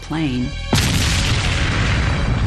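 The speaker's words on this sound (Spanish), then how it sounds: "Se produce otra explosión" An explosion at an aircraft, a sudden loud boom after a tonal musical passage, followed by a sustained roaring wash of noise.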